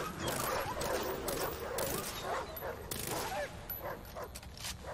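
Several dogs bark and yelp in the Far Cry 3 video game, a dense overlapping pack close by, with scattered sharp gunfire-like cracks mixed into the steady din.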